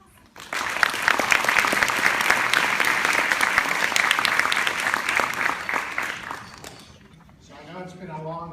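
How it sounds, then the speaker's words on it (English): Conference audience at Stanford's S.U.M.M.A. 2015 gathering bursts into sustained applause for an introduced speaker, dense clapping lasting about six seconds before fading, then a voice starts talking. "So please give him a round of applause."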